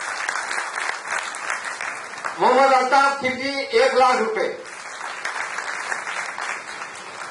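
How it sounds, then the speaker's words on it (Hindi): Applause at an educational convention for a donor announcement: broad, steady clapping from the crowd runs throughout, with someone speaking over it through a sound system for several seconds. "तालियों की गिड़गिड़ाहट"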